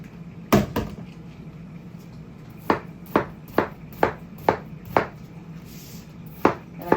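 A large sharp knife dices a watermelon on a cutting board, with a run of about nine crisp, hard chops in an irregular rhythm, close and loud over a quiet room.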